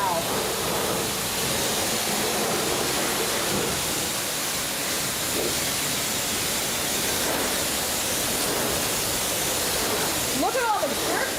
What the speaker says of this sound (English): So this is gonna blast off the dirt and apply your wax at the same time.